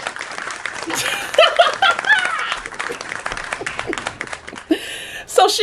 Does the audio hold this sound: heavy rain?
no